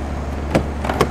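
A tractor door unlocks via keyless remote with a couple of short mechanical clicks and a brief actuator thunk, close by and without speech.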